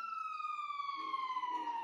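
A fire truck siren in the video game GTA V wails in a long, steady falling tone with strong harmonics, sounding continuously and fairly clear with no talk over it.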